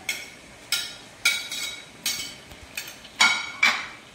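Fried paneer and capsicum tipped into a pan of cooked mixed vegetables, heard as about six sharp metallic clinks and knocks of a utensil against the pan, spaced irregularly and fairly close, with no talking.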